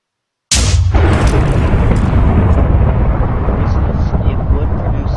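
A huge anti-schrabidium blast from the HBM Nuclear Tech mod in Minecraft, video game audio: a sudden sharp crack, then a long, loud, roaring rumble that holds steady and dense without fading.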